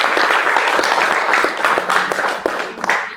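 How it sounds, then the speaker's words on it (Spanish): A church congregation applauds during a Spanish-language service, dense steady clapping from many hands filling the room throughout, with a few sharper individual claps standing out near the end. "Dele un fuerte el aplauso al Señor."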